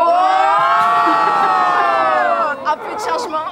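A fashion week crowd shouts a long drawn-out wow together, loud and sustained for a few seconds, then breaks into scattered shorter cries and cheers.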